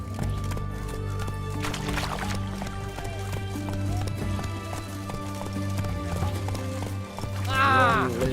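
Roach the horse gallops in The Witcher 3, with quick, steady hoofbeats thudding close, a snort or whinny rising near the end, and game voices faintly underneath.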